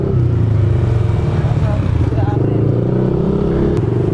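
A Honda Click 160 scooter with a new dual-tip exhaust runs close by. Its loud, buzzy engine note holds steady with a slight rise, and voices can be heard over it.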